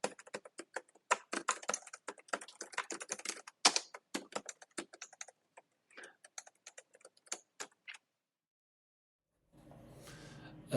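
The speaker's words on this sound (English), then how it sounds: "And now let's type a little harder." Brisk, forceful keyboard typing picked up through AirPods Pro during a call, with dense clicking that thins out into a few scattered keystrokes, then stops, followed by a brief soft rush of noise.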